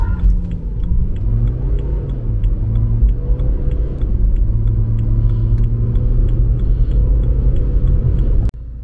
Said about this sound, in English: When I rev the motor, the tire starts spinning.